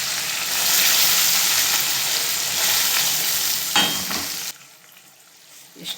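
Cumin seeds and curry leaves hit hot oil with a loud, close, steady sizzle that cuts off abruptly partway through, leaving a faint low hiss and a final small clatter.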